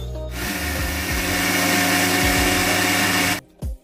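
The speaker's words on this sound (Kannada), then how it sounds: "ಅದನ್ನು 1 ಮಿಕ್ಸಿ ಜಾರ್ಗೆ ಹಾಕಿ ಫೈನ್ ಪೇಸ್ಟ್ ಮಾಡಿ ತೆಗಿಬೇಕು." A mixer grinder whirs loudly and steadily as it grinds fried onion and tomato into a fine paste for butter chicken, then stops abruptly near the end, followed by a brief short burst.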